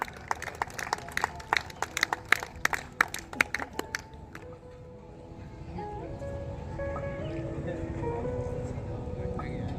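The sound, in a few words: applause at closing ceremony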